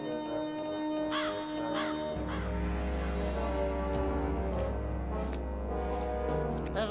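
A crow caws in an animated cartoon, giving several harsh, hoarse calls in a loose series over steady music that thickens partway through.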